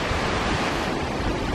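A small mountain waterfall at a lake in the Néouvielle nature reserve in the Pyrenees gives a steady, dense rush of falling water with no pauses, fairly loud and continuous.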